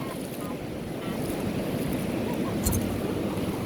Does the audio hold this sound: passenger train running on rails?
no